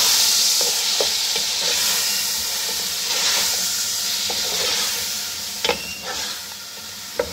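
Chicken and two chopped tomatoes sizzle steadily in a pan for a Punjabi pulao, with a continuous frying hiss and a few sharp scraping stirs near the end.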